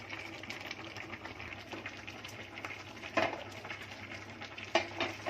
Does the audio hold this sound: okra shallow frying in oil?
yes